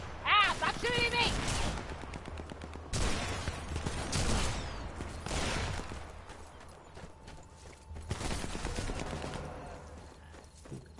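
Gunfire in the Sniper Elite 4 shooter game, several bursts of loud sharp shots in clusters across the span, mixed with clattering game effects and a voice talking over it.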